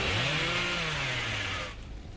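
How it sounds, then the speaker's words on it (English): A chainsaw dash in the video game Dead by Daylight: a loud, sustained revving buzz with a slowly sagging pitch that cuts off sharply near the end, leaving quieter game ambience. "Let's catch up a little bit of distance by using our chainsaw dashes."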